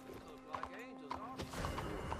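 Horse hooves clip-clop at a walk in Red Dead Redemption 2, a few soft, irregular thuds heard under nearby talk.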